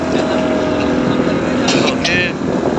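A motorboat engine drones steadily on a ride toward an island off the Selangor coast. The sound is loud and continuous, mixed with rushing wind and water noise.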